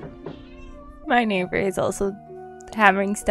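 A pet cat meows repeatedly in the foreground, several drawn-out, wavering cries, with a person talking over and between them.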